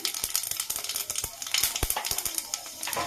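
Panch phoron spices sizzling in hot oil in a Bengali home kitchen, a close, moderate crackle with quick popping bursts scattered across the whole clip.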